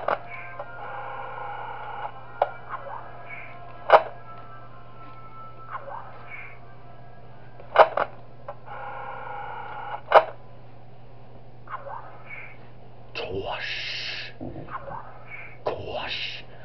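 Game music from the horror game Five Nights At Darl's, a steady tonal drone with repeating melodic phrases punctuated by sharp periodic stings and bursts, fairly loud with no talking over it.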